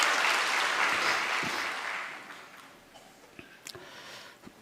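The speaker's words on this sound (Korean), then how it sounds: "우리 그분들에게도 격려의 박수 드리겠습니다" Congregation applause of encouragement at a dawn church revival service, a steady wash of clapping that fades over a few seconds into a few scattered claps and light knocks in a quiet hall.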